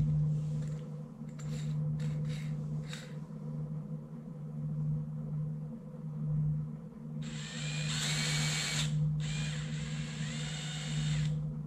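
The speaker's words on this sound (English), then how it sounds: "So we'll put this in the drill." Power drill spinning a honing tool used to enlarge the felt bushings on a Chickering parlor grand piano's jacks; a steady close motor whine runs loud across the middle, over a constant low hum with brief earlier bursts.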